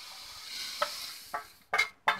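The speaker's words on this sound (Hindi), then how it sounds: "इन सभी को हम धीमी आंच पे भून लेंगे।" Whole spices (fennel, nigella, mustard, coriander, fenugreek and cumin) dry roast in a pan over a low flame, giving faint scraping stirs and soft rattles that grow into a few louder bursts near the end.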